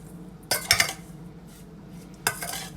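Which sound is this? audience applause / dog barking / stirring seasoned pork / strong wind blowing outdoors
stirring seasoned pork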